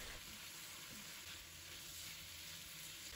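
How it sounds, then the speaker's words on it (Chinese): Snow peas and garlic sprouts stir-fried over high heat in a wok give a steady, close sizzle with faint scraping of the spatula, running evenly throughout with no voices. "快速的翻炒几下"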